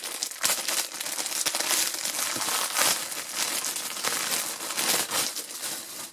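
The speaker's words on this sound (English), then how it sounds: "sorry for the sound of the plastic" Plastic packaging crinkling continuously and loudly up close while military special-forces gear is unboxed, a dense, steady rustle with sharper crackles throughout.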